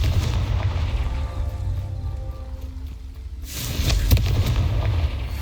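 The Confringo fire spell from the Hogwarts Legacy video game bursts with a deep, rumbling blast, followed by a second louder explosive hit with crackling debris after a brief lull.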